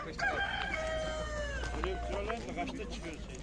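A rooster crows amid a busy outdoor poultry market in Çubuk, Ankara, with clucking fowl and people talking in the background.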